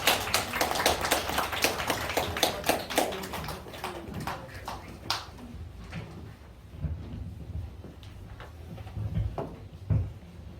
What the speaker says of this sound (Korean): 큰 박수 부탁합니다